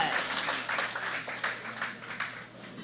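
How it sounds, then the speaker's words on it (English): Audience applause at a charity foundation's sixth annual fundraising dinner, a dense patter of many hands clapping steadily throughout with a few louder swells, close and filling the room. "Sous vos applaudissements, s'il vous plaît."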